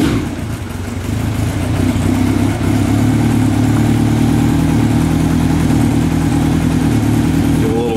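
A 1991 Honda Nighthawk 750 motorcycle engine idles on choke, a loud, steady mid-pitched running note close by with a slight rise in revs, and a voice talks over it now and then.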